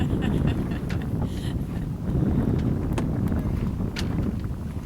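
Wind blows steadily across a small sailboat, a loud low rumbling buffet of the microphone with occasional faint knocks of the boat throughout.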